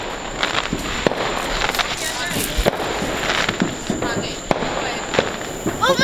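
Backyard Fourth of July fireworks going off as a string of sharp cracks and pops with crackling bursts spread across the whole stretch, fairly close, while people talk and call out in the background.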